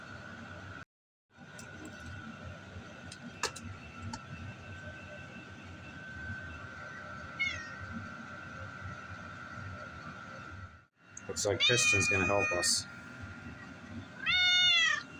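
Cats meow several times in a garage where an old Chevy truck is being worked on, rising calls clustered near the end over steady background hum, with someone speaking briefly.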